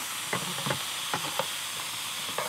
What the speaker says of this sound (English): And then just keep giving that a stir through.